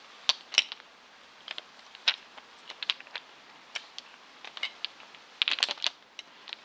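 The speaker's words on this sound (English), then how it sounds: "I know a lot of people like the sound of the clicking." Small hard nail polish bottles click and tap in irregular clusters, crisp and close, some quick doubles, with quiet gaps between.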